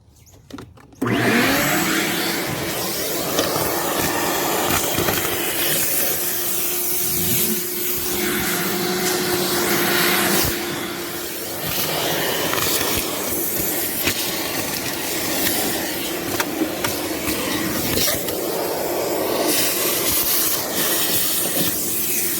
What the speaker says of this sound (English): Alright, so I got the front vacuumed out.